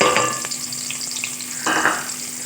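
Onion frying in oil in a pot, a steady close sizzle with a few soft stirring scrapes, no speech.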